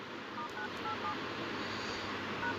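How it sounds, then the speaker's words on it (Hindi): Telephone keypad tones dial a code on a Ufone mobile: several brief, faint beeps spaced irregularly over a steady background hiss, with one more beep near the end and no talking. "सिर्फ डायल करें"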